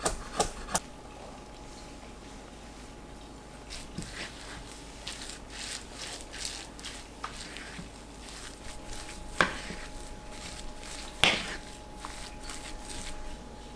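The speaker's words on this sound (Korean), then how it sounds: "당면을 썰어주세요." A knife chops glass noodles on a cutting board in steady, quick taps, close and clear, with a few sharper knocks standing out along the way.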